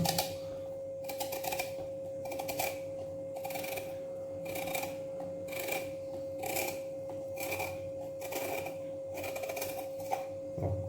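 Knife slicing through watermelon rind, a series of rapid scratchy cutting strokes in regular bursts, close and moderately loud over a constant background hum.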